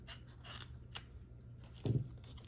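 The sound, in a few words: cutting off bottom of card paper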